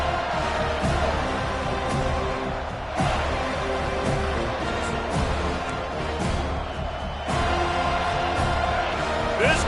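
A packed football stadium crowd roars and cheers continuously during a game, a loud, dense wall of voices with surging swells, heard close and steady throughout.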